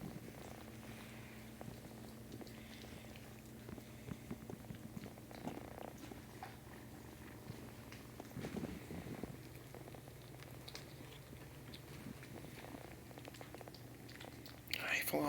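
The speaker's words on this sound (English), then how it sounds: "And you got a big purr, too." A kitten purrs softly and continuously, a low steady rumble close by, with faint rustling and small movements around it.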